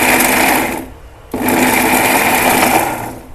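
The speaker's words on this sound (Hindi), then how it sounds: "तभी इसको ग्राइंड कर लेना" Mixer grinder whirring loudly up close as it grinds soaked soy chunks, running steadily, pausing briefly near the one-second mark, then starting again and continuing.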